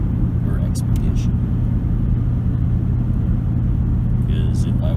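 A 2008 Ford Expedition's V8 gas engine drones in a steady, loud low rumble while the truck is driving, with faint voices now and then.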